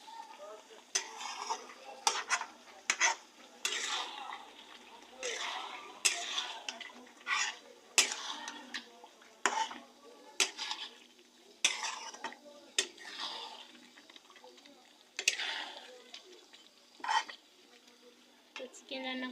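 Chicken cooking in a pan, stirred with a utensil that scrapes and clinks against the metal in repeated bursts, over a faint sizzle in a home kitchen.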